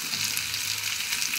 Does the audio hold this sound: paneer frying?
yes